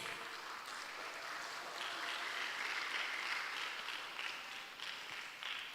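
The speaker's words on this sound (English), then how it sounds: "Maybe we can give one big applause for all of the speakers today." Attendees at the opening of an international biology and environmental sciences conference applaud the speakers, a faint, sustained sheet of clapping that swells slightly in the middle and carries on without talk.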